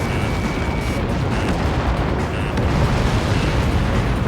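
A missile impact explosion in the air-combat game Ace Combat 7 rumbles as a loud, sustained low blast with continuous roaring debris noise and no talking.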